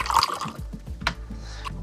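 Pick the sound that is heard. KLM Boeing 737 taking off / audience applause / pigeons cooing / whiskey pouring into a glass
whiskey pouring into a glass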